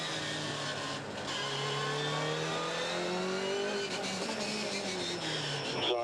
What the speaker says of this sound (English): That car of Buncombe's just went past our commentary box.